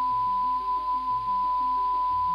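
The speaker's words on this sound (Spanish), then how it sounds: "La señal es conocida como el mensaje de Arecibo y suena así." Arecibo message radio signal transmitted from Arecibo Observatory, rendered as a steady electronic tone with a stepping pattern of lower beeping pulses, continuous and clear for a couple of seconds, no voices.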